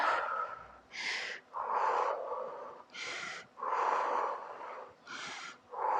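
During an intense cardio workout, a person breathes out hard with the back and head against a wall, giving about six forceful, breathy exhales in a slow, regular rhythm, close and alone.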